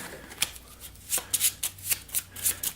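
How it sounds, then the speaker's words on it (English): Playing cards for the Robinson Crusoe board game being shuffled by hand at close range, a run of quick crisp riffles and soft slaps in irregular bursts, with no voices. "we need to shuffle this into the deck"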